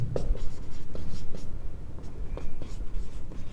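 A pen scratches in short strokes on paper as a class 10 maths problem is worked through, close and intermittent, with soft speech running underneath.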